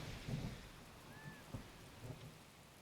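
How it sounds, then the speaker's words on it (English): Rain falling in The Legend of Zelda: Breath of the Wild, a quiet, steady patter with soft low rumbles like distant thunder and a faint tonal chime partway through. "Oh, is it really gonna rain here?"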